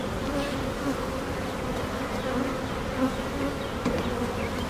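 Honeybees returning to a hive with nectar after the honey harvest make a dense, steady buzzing drone close up, a continuous swarm hum with slight swells and no voices.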